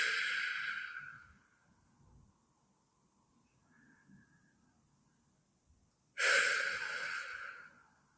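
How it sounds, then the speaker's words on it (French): Deep breaths, slow and near, each a long airy exhale, with quiet pauses between them. "Prenez 3 grandes respirations ici avec moi."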